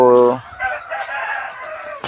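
A Peruvian cross rooster crows once, close and loud, with a short harmonic call followed by a raspy, trailing crow, recorded at a breeding setup on a farm.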